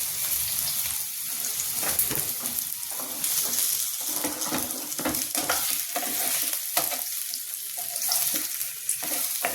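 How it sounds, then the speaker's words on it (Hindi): Potatoes with cumin frying in a pan, a dense continuous sizzle with crackling pops and occasional stirring scrapes, close and steady with no talk. "और ये आलू फ्राई कर रहे हैं"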